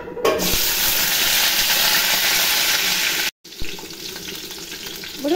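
Peanuts and green chillies fry in hot oil in a kadai, giving a loud, steady, close sizzle with crackling spatter, briefly interrupted by a short gap before the sizzling resumes slightly softer.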